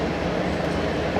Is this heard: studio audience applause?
no